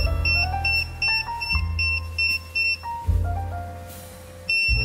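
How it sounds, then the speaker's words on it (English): A portable oxygen gas detector alarm beeps in repeating high-pitched pulses, alternating with a stepped sequence of lower tones, close and clear with no talking. "the beeper sounds an alarm when the function is activated"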